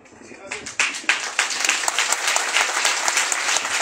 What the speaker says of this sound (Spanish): fuertísimo aplauso para el delegado del Centenario